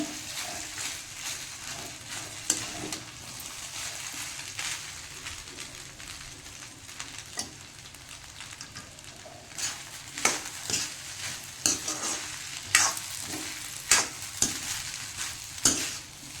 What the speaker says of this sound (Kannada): ಈ ಥರ ರೈಸ್ ಹಾಕ್ಕೊಂಡು ನೀಟಾಗಿ ಕಲಿಸ್ಕೊಂಡ್ಬಿಡ್ರಿ